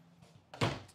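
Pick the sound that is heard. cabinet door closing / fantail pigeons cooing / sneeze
cabinet door closing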